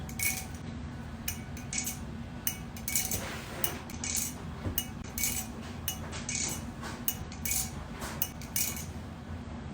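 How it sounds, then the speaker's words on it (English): Rapid metallic clicking and clinking of a balisong knife being flipped, irregular bursts of light rattles repeating close by over a steady low hum, no talking. "I don't have another Balisong that sounds like this."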